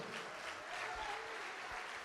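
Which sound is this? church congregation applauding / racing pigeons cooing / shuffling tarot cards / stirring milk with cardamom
church congregation applauding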